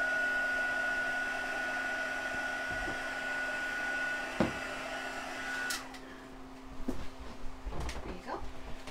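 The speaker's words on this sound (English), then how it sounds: "I start when I'm using my heat tool on the back side of my image" An embossing heat tool blows hot air in a steady, moderately loud whoosh for several seconds, then cuts off, leaving quieter room noise with a voice talking and some light handling clatter.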